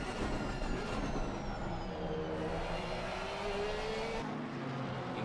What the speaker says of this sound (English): The SSR Herber car number 92 sounds absolutely fantastic.